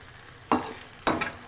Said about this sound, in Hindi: टमाटर को 3 से 4 मिनट फ्राई करना है